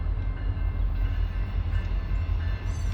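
A CSX train with three locomotives and 12 cars rolls past close by, a steady heavy rumble with a broad rushing roar and faint metallic ringing over three seconds.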